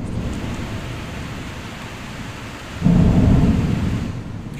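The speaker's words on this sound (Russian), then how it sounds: "Сейчас я вам дам послушать шум дождя и грозы." Steady rain falls in Moscow while low thunder rumbles, swelling to a louder roll partway through and slowly fading away.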